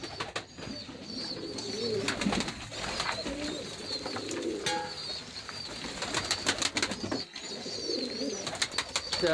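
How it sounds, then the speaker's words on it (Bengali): Native breed pigeons in a pigeon house cooing repeatedly, soft throaty calls rising and falling throughout, with occasional wing flaps and faint chirps nearby. "এটা দেশীয় জাতীয় কবুতর, মাঝে মাঝে বোম্বাই কবুতর রয়েছে।"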